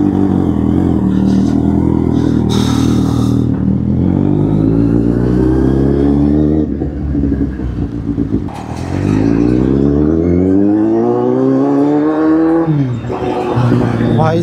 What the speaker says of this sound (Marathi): भाई साहब ट्रॅफिक बघा